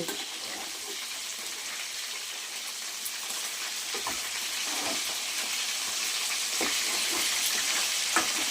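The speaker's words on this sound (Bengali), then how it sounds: "বাকি মাছগুলো আমি ভাজতে দিয়েছিলাম, সেগুলো আমার লাল লাল করে ভাজা হয়ে গিয়েছে।" Pieces of katla fish deep-frying in hot oil give a steady, dense sizzle throughout, with a few sharp clicks and pops from the pan rising above the constant crackle.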